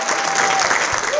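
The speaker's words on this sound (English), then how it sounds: "So let's give a round of applause." Audience applause fills a Hall of Fame induction ceremony hall, a dense, loud burst of clapping from a crowd that runs through the whole brief moment.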